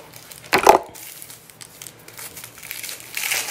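Packaging around makeup brushes being unwrapped, with a loud crinkling burst early on followed by quieter rustling and crackling of plastic wrap, ending in another stretch of crinkling.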